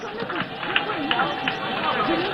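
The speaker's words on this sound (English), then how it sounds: "Shall we please give him a round of applause?" A parade crowd applauds the President and Commander-in-Chief of the Ghana Armed Forces at an Independence Day ceremony. Dense, steady clapping fills the clip, with a constant murmur of crowd voices underneath.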